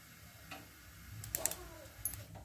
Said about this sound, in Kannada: ಯಾವುದೇ ಒಗ್ಗರಣೆಗೆ ಸಾಸಿವೆ ಚಿಟ್ಟಿಟ್ಟು ಅನ್ಬೇಕು